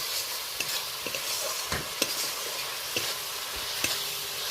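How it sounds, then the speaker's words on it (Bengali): Ground spices stir-fry in a pan with a little hot water for an egg and lentil dish, making a constant close sizzle broken by a few distinct scraping stirs of a spoon, with no voices. "এবার গুঁড়ো মশলার সাথে ভালো করে কষিয়ে নেব।"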